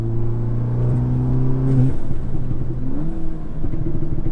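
Tuned Audi S3 with a DSG gearbox accelerating hard on a backroad, the engine note climbing in steady harmonic sweeps with a quick gearshift and renewed rise, loud and continuous from inside the car.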